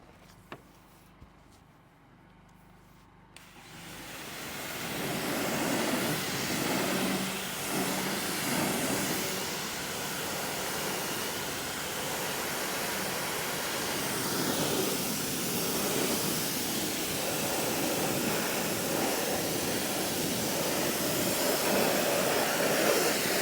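Water spraying over dirty BMW wheels during a deep wheel cleaning, starting after a few quiet seconds and then a continuous loud hissing rush of water close by for the rest of the time.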